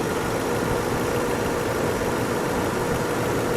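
A 2019 Toyota Land Cruiser's 5.7-liter V8 idles evenly, a steady, moderately quiet low hum that holds without change, with no one talking.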